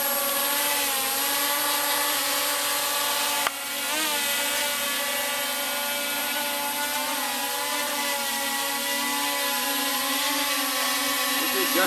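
Small consumer drone rotors whirring up with a steady high-pitched buzz that shifts pitch partway through and stays loud and close to the end.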